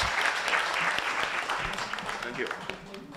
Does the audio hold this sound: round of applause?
yes